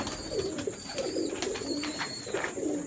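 Indian Ferozpuri pigeons coo in a repeated, soft, rolling rhythm, several birds calling close by, with a thin high whistling tone running underneath.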